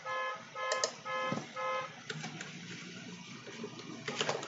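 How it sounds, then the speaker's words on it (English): A car alarm going off somewhere outside, its repeating electronic tones pulsing in even bursts at moderate distance, then giving way to a fainter rattling whir. "Someone's car alarm is going off."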